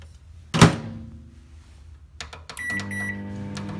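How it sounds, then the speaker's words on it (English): A microwave oven door thunks shut, a few beeps follow, then a steady low hum with a faint whir starts as it runs, sterilizing soil. "I'm actually going to sterilize this new soil in the microwave for a few minutes"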